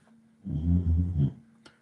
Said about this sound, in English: My dog's snoring out of control, as you can hear.